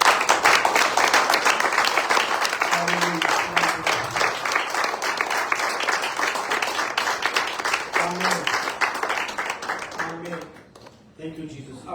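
A congregation at a Sunday church service applauds for a long stretch with steady, dense clapping that fades near the end, while a voice speaks over it now and then.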